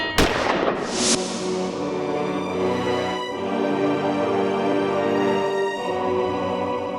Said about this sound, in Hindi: इसने 6 की 6 गोलियां मिस्टर कपाड़िया के सीने में दाग दी।